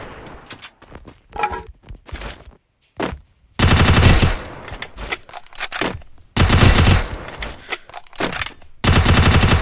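Gunfire in the mobile shooter game Free Fire, including pump shotgun blasts, heard as loud, close bursts of rapid shots broken by short pauses and quieter footstep-like thuds.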